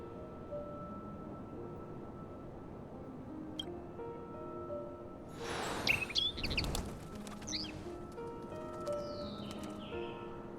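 Birds chirp in the video game Honkai: Star Rail, bright tweets and trills rising over a quiet ambient hum with a brief rustling burst in the middle.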